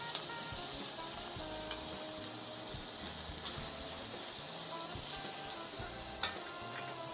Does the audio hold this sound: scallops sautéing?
yes